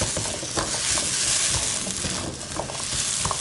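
Potatoes stir-frying in a pan: a continuous close sizzle with scraping stirs and small clatters, and no voices.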